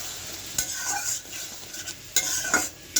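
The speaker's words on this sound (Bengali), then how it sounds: "আমার যে ছাদের গাছের টমেটো, আমি এটা কষিয়ে নেব মশলা দিয়ে।" Rooftop-grown tomatoes sautéing with spices in a pan, soft sizzling under a few sharp scrapes and clinks of a stirring spoon against the pan, close and brief, with no voices.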